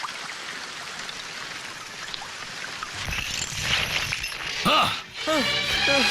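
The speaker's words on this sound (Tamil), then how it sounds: "நல்ல மழை பெய்யுதுல, தூங்கட்டுங்க." Heavy rain falls in a Tamil film scene as a constant broadband hiss, with voices talking over it in the later half.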